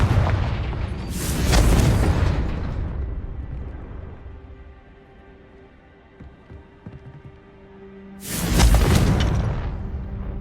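Two heavy booming blasts from the Confringo fire spell in Hogwarts Legacy, one near the start and one near the end, each a loud broadband burst with rumbling decay, separated by quieter ambient game sound.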